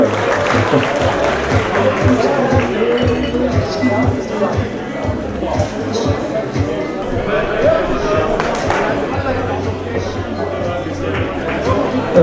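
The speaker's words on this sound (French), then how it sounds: "on va les applaudir. Bien fort, bravo" At an award ceremony, a loud crowd applauds prize winners, a dense, steady clatter of clapping mixed with chatter and an amplified voice speaking over it throughout.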